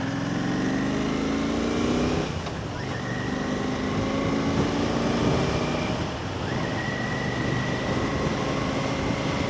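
A Royal Enfield Classic 650 motorcycle fitted with a DNA Stage 2 air filter revs up twice, its engine rising in pitch with an audible whine over a steady idle drone, heard close and alone.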